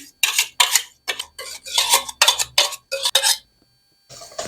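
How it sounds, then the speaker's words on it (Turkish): A spoon or whisk knocks and scrapes against a bowl while San Sebastian cheesecake batter with cream is stirred, in close, rhythmic bursts of clinking separated by short gaps, ending in a brief pause; no voices. "Ve karıştırmaya devam ediyorum."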